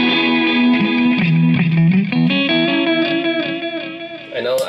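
Electric guitar run through a Catalinbread Belle Epoch tape delay pedal, sustained chords and notes with trailing tape-style repeats and a slightly driven tone, playing steadily and up close with no talk.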